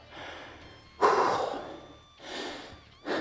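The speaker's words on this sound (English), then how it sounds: "You breathing heavy yet? I know I am." Heavy breathing during a cardio and core workout: sharp, loud exhales and gasping intakes in about three bursts, close to the microphone, with no talking.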